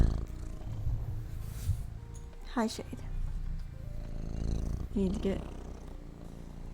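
A cat named Shade purrs in a low, rumbling drone close to the microphone, with a person talking softly over it.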